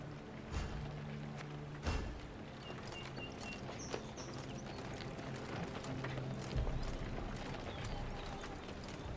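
Horses ride in within the fantasy world of Thronebreaker, their hoofbeats a steady clip-clop under a busy ambient bed, with a few louder hoof strikes and faint birdsong scattered across the scene.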